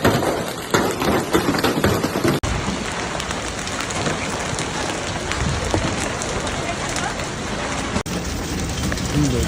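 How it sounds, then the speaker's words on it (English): A hailstorm in Madrid drops ping-pong-ball-sized hail, a loud, dense, continuous clatter and roar of stones pounding surfaces nearby, with some voices mixed in. "hail the size of ping pong balls was even seen"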